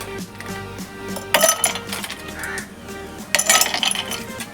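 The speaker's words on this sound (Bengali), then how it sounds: "আমি বরফের টুকরো দিয়ে দিচ্ছি, 3 টুকরো, 4 টুকরো, 5 টুকরো বরফের টুকরো দিয়ে দিলাম।" Ice cubes dropped into a glass for a chilled roasted-mango drink, two bursts of bright clinking and rattling about two seconds apart, close and clear, with no voices.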